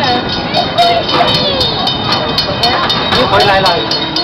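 A park train ride at Irvine Regional Park rolls along its tracks with a constant loud rumble and clatter, and voices chatter over it throughout.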